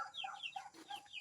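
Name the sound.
chickens clucking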